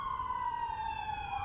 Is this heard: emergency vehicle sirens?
yes